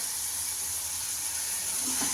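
Carrot pieces dropped into hot tempering oil with cabbage and beans for Schezwan poha give a steady, close, loud sizzling hiss that runs unbroken throughout, with no talking.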